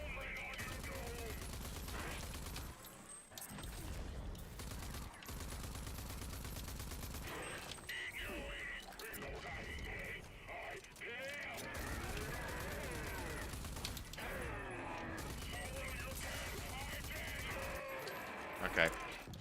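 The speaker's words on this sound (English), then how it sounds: "I'm really burning through my shotgun rounds." Shotgun blasts and gunfire crackle through a combat scene in the video game Rage 2, repeated bursts layered over a constant loud game soundtrack and action noise.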